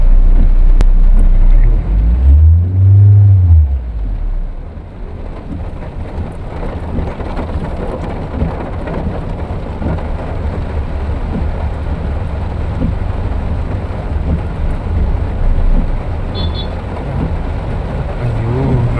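Heavy rain and a storm over road traffic in a flooded typhoon, with a continuous loud wash of rain and low vehicle rumble throughout, a brief deeper engine swell near the start.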